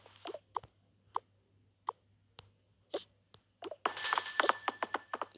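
Telephone ringing in a cartoon-style scene, a bright electronic ring with sustained tones starting partway through after scattered short plops and clicks, moderately loud and alone with no talk.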